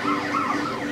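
Ambulance siren in Grand Theft Auto: San Andreas, a loud wailing tone rising and falling continuously for the full second, close and alone.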